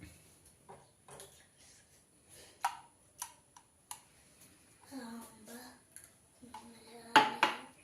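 A metal pot of glycerine soap base clinks as it is lifted and set down in a home kitchen: several small, light clanks and taps, fairly quiet, with a voice speaking between them.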